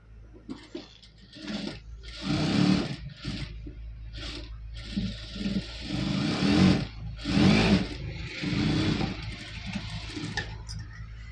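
Sewing machine stitching the edge finish on a lined blouse, running in several bursts of busy mechanical whirring with short pauses between them, fairly close and steady in level, with no talk over it.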